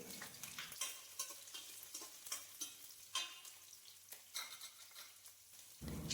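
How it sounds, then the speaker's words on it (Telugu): Chopped onions and green chillies frying in hot oil, a steady close sizzle with repeated stirring scrapes throughout, with no talking. "ఈ ఆయిల్ కొంచెం హీట్ అయ్యాక ముందుగా తరిగి పెట్టుకున్న ఉల్లిపాయలు వేశాను"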